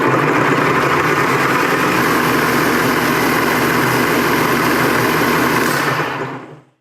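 Electric motor spinning at 2,500 RPM with a short connected for braking, a loud steady high whine that holds for several seconds, then winds down and falls silent within about a second.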